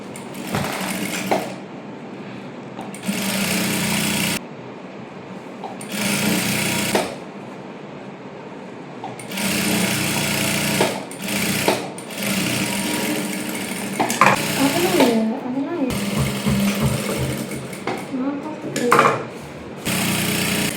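A sewing machine stitches a folded hem on a silk princess-cut blouse, running in bursts of rapid needle chatter separated by short pauses, close and fairly loud.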